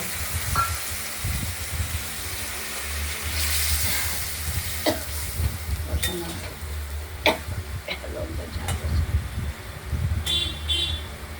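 Ground spice paste with turmeric sizzles in a pan with fried potatoes, a soft continuous hiss broken by occasional scrapes and clinks of a spoon stirring against the metal.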